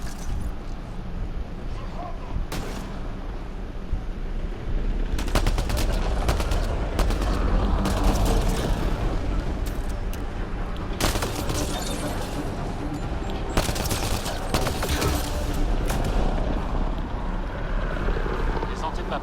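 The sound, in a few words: gunfire in the video game Mass Effect Andromeda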